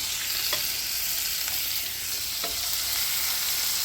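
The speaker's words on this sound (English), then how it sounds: "you hear that sizzle?" Steady hissing sizzle of butter and oil frying in a hot cast iron pan, continuous and close, with a few faint clicks and taps on top.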